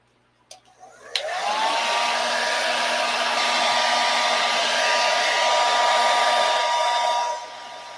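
A hand-held hair dryer switches on after a couple of clicks and blows a loud, steady whooshing roar with a faint motor whine for several seconds before cutting back down.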